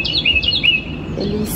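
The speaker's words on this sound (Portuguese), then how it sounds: "Ó, até os pássaros estão cantando, você tá escutando?" Birds sing outdoors nearby, a few clear, repeated high chirps in quick succession, then fading to quiet ambient background.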